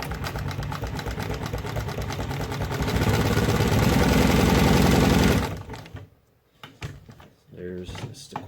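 A Singer 144W304 industrial sewing machine runs a quick burst of stitching for about five seconds, loud and close, then stops; afterwards come quieter handling clicks and a brief voice.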